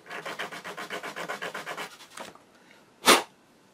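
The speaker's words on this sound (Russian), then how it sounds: "вот так вот пиляем. Пиляем до тех пор, пока наша бороздка" A file rasps back and forth in about a dozen quick rhythmic strokes, flattening a groove on a small sewing machine part, followed by one sharp louder scrape.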